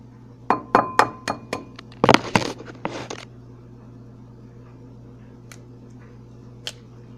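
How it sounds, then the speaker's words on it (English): Two eggs cracked for homemade French toast: a series of sharp taps and clicks in quick succession, then a brief crackle of shells breaking open, followed by quiet with a couple of faint clicks. "two eggs. You need to crack them."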